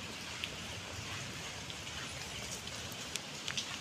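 Steady rain falls on durian trees in the rainy season, a dense, even hiss of drops on foliage with occasional sharper drips, moderately loud and unbroken.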